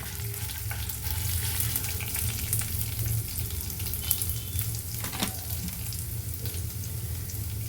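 Onion and tomato frying in a pan for kosthu chutney, giving a constant, even sizzle close up under a low background hum, with a faint utensil knock or two.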